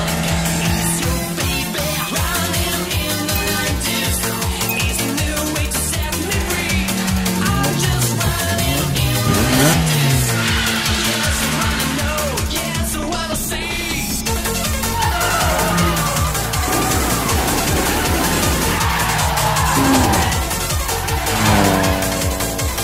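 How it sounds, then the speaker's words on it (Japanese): In an anime race, a Toyota AE86 makes a full-throttle four-wheel drift with loud, sustained tire squeal and skidding over a straining engine roar, a dense and unbroken wall of racing noise. "あのドリフトはほとんどカウンターを当てない全開の四輪ドリフト。"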